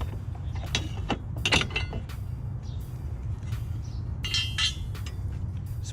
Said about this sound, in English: we can now remove the bracket